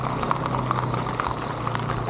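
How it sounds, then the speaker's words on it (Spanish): Horse hooves clip-clopping in a quick, regular rhythm on hard ground at a horse event in Yauco, Puerto Rico, close and clear over a low background hum. "¿Cómo viene el caballo todavía por ahí?"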